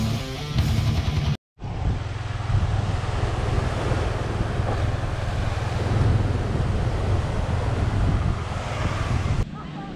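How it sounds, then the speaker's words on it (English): Wind gusts and surf wash steadily over a beach on Nusa Penida, loud and close, with a brief dropout early on and no speech. "now we are on a beach here"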